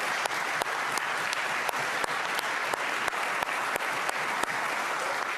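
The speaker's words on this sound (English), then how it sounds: "I think we all ought to give him a round of applause" Sustained applause in the Virginia House chamber, a dense clapping wash with a few sharp, regularly spaced louder claps standing out, steady and fairly close throughout.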